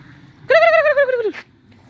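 A single loud, close turkey gobble, a harmonic rattling call lasting under a second, cutting out from quiet surroundings.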